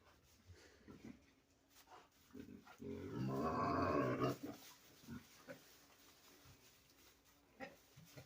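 Pigs, including a boar and sows, on a farm, heard up close: scattered grunts and snorts, with a loud burst of squealing for about a second and a half in the middle, then quieter grunting.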